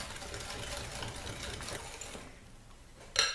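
A whisk beats chocolate chip cookie dough in a bowl, a fast steady rhythmic scraping and rattling at moderate loudness that fades out toward the end, followed by a short clack.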